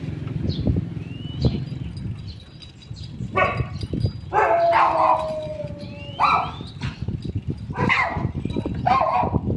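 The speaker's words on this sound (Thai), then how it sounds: "ดูไอ้แดงมันจะเห่า" A dog barks repeatedly in loud bursts mixed with drawn-out howling yelps over a rumbling outdoor background on a morning walk.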